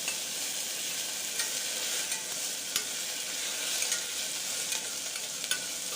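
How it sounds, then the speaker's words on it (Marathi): Cloves, thin slices of dried coconut and cashews fry quietly in oil with an even, soft sizzle, dotted with light clicks from occasional stirring. "छान असं परतून घ्यायचे सर्व तेलामध्ये"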